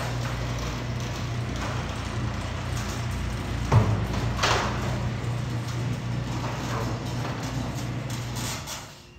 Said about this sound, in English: It kind of has a humming sound to it, but the thing that's loud is the chain, which is a little bit loose.